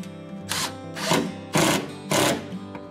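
Screw, one and a quarter inches long, driven into wood with a power driver in four short whirring bursts, close and moderately loud, separated by brief pauses.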